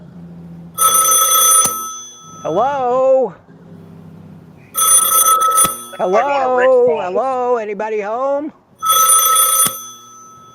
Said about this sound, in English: Somebody going to answer the phone?